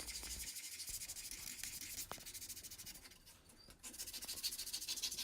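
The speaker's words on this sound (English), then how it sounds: "do a little bit of hand sanding to take out any swirl marks" Fine-grit sandpaper rubs by hand over a turned live-edge wooden bowl to remove lathe swirl marks, a soft, steady scratchy swishing in repeated strokes, close and fairly quiet with brief pauses.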